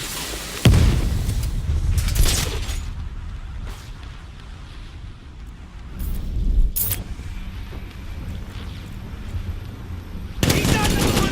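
Gunfire and a grenade blast during combat in the video game Batman Arkham Knight, with loud bursts and sharp impacts over steady battle noise and shouted voices.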